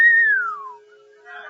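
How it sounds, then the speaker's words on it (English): A radio-drama sound effect of wind whistling through an old haunted house, a single clear falling whistle that glides downward and fades within a second, then a faint breathy tail. "Just listen to the wind whistle through that old haunted house."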